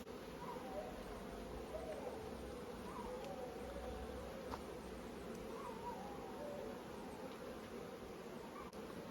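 A honey bee swarm, caught from a tree in a bait hive, hums with a dense, steady buzz that stays close and continuous throughout, with faint higher whines drifting over the drone.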